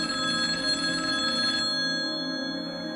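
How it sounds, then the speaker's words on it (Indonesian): A telephone rings inside a family home, a bright steady ringing tone that continues for about a second and a half, then cuts off, leaving a quieter lingering hum. "Telepon di rumah keluarga Sumitro sering berdering"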